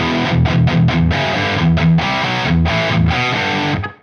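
Thick, high-gain distorted electric guitar through a Soldano amp in overdrive mode on a humbucker, playing chugging riffs with short palm-muted bursts and brief gaps, loud and up close, no talking.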